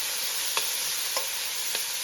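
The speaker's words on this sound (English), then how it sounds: "Usually we saute our onion first as the base" Onion sautéing in a pan as the base for Haitian black rice, a continuous bright sizzle with three soft stirring scrapes spaced evenly about half a second apart.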